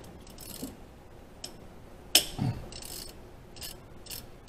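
Ratchet wrench working on engine head bolts, a few sharp metallic clicks and short ratcheting bursts separated by quiet gaps, with one louder clank near the middle, close and alone.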